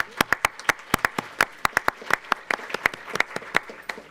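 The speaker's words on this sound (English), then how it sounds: "Can we please give another round of applause?" Steady, brisk clapping from a modest audience at a school board meeting, sharp individual claps repeating in quick rhythm for several seconds, close and fairly loud with no talk over it.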